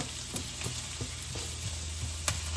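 Pork frying in a pan while being stirred into laing, taro leaves in coconut milk: a steady close sizzle with soft scraping stirs at irregular moments, no voice.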